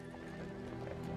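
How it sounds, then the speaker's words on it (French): A horse whinnies briefly amid the quick clatter of hooves, faint and close, lasting only about a second. "Mais quel cheval? Mon cheval."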